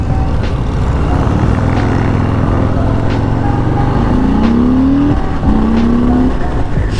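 A 2021 Harley-Davidson Sport Glide motorcycle accelerates hard, its loud, close engine droning low and then rising in pitch through rev climbs with a brief shift between.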